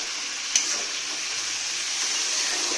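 Potato, carrot and beet pieces fry in a pan with a continuous close, bright sizzling hiss, broken by one small clatter early on.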